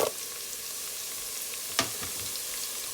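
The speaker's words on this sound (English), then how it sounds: "I'm gonna saute my onions for a little before I go in with my next ingredient. So garlic and pepper is going in." Onions with garlic and pepper sizzle steadily in a hot pan, a soft continuous frying hiss with one brief clatter midway, no voices.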